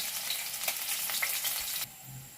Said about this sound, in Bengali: এটা হালকা একটু ফ্রাই করে নেব আদা আর রসুনটাকে।